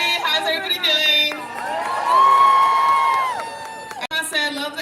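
A crowd at a Hands Off rally in Rosa Parks Circle, Grand Rapids, Michigan, cheers and whoops loudly and continuously, with a swelling roar of voices that briefly dips before rising again.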